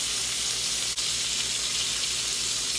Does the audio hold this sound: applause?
no